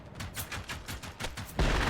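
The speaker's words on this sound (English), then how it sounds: "you managed to chain the explosions though" Rapid string of grenade explosions chaining together in the video game Alpine Unrest, about eight sharp bursts in quick rhythm followed by a louder, sustained blast at the end, with no talking.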